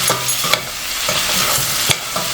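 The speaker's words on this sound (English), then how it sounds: "I am adding a tablespoon of ginger garlic paste and saute it till we remove the rawness of the ginger garlic." Ginger garlic paste sautéing in a pan while being stirred, a loud continuous sizzle and frying hiss with scraping stirring strokes, close up and without talk.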